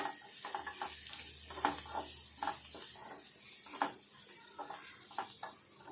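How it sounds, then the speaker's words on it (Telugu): Egg whites frying in a pan with salt and chili, a low steady sizzle under repeated soft scraping strokes of a stirring spoon, faint and close with no talking. "కొద్దిసేపు వేపుకోవాలి"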